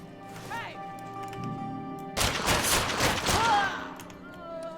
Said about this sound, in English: these twin pistols are great now. Eating through ammo, definitely, but still, great combination.